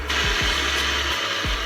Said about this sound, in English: I'm gonna whisk until nice and fluffy